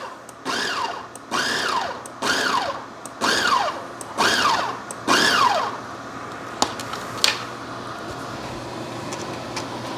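A food processor pulses olives into a coarse tapenade in six short, even whirring bursts, each spinning up and winding down, followed by a few faint clicks and quiet room tone.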